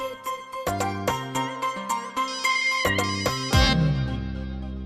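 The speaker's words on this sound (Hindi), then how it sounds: "हरक सिंह फिलहाल बिजी है ना, इसलिए आपका फोन नहीं उठाया होगा।" A mobile phone rings in an Indian TV drama, playing a bright electronic melody of short, stepped notes that repeats for several seconds at moderate volume with no voices over it.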